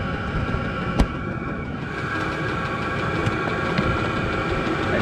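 A diesel air heater runs steadily inside a box with one vent and its exhaust routed out, fed from a 7-liter diesel tank. It gives a constant low mechanical drone with a broad hiss and one sharp click near the start.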